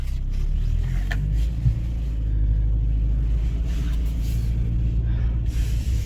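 A BMW E46 car pulls away with a steady low engine rumble and road noise from inside the cabin, loud and continuous with no talk.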